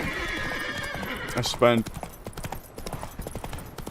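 Roach, a horse in The Witcher 3, gallops with a burst of hoof clops and a whinny mid-clip, set under someone talking over game sounds.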